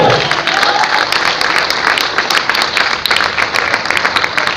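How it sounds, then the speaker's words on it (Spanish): Applause from a church congregation, dense and steady clapping that fills the whole stretch at a fairly loud level with no breaks. "yo le daría un aplauso al Señor."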